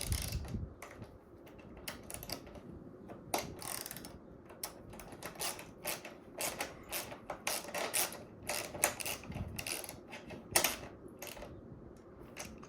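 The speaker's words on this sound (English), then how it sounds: "I'll just stick them in the wrench because they're flanged." A wrench works flanged bolts on a Kawasaki KE175 motorcycle build, giving faint irregular ratcheting clicks and metallic taps in a quiet workshop, with no one speaking.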